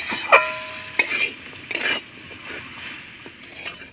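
Potatoes and spices sauté in a pan while a utensil stirs and scrapes, giving several sharp clinks and scraping bursts over a soft sizzle, close and moderately loud.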